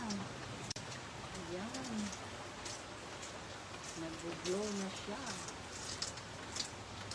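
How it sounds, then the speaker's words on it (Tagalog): Heavy rain falls outside as a steady hiss of drops on surfaces while doves coo intermittently nearby; a person speaks briefly over it. "Ang lakas ng ulan sa labas"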